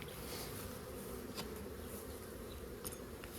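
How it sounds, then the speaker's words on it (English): A close, continuous buzzing of many honeybees during a beehive inspection, steady and dense, with brief louder drones as individual bees pass nearby. "Those are the stickiest bees."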